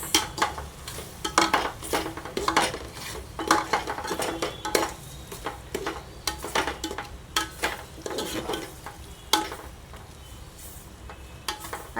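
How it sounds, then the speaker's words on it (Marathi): Spices being stirred into pasta in a pan, a spoon scraping and clattering against the metal in quick irregular strokes, close and fairly loud, with a faint sizzle underneath and no talking. "आता ह्याला नीट मिक्स करून घेऊया"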